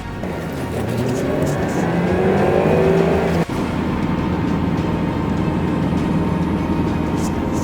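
A car travels at about 90 along a road, heard from inside as a loud, steady roar of engine and tyres, with a brief thump partway through and no talking.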